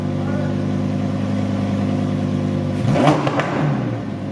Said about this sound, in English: Give it a rev. Give it a little rev.